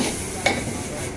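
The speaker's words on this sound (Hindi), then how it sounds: "इधर फ्राई हो रहा है, 65 चिकन 65 फ्राई हो रहा है" Chicken 65 frying in an open street food kitchen, heard as a brief steady sizzle of oil with a short clink partway through, close by, with no talking.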